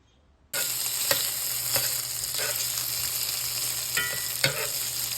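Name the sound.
sliced peppers sizzling in a pan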